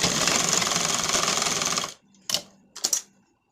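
A sewing machine stitches a straight seam on a blouse lining, a fast steady mechanical whirring for about two seconds, then stops, followed by two brief clacks of handling, all close up.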